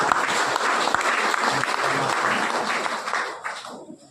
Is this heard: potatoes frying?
no